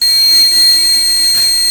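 A steady, high electronic buzzer tone from an Arduino laser-tripwire alarm sounds continuously throughout, loud and unbroken, with a faint low hum underneath.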